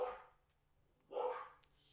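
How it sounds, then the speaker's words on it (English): Dogs barking in the background of a home, two faint bursts of barking separated by a quiet gap. "I hear my dogs barking in the background."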